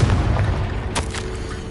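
Confringo spell blast in a wizarding video game, a sharp booming explosion with rumbling low end, followed by a couple of quick crackling bursts as it fades.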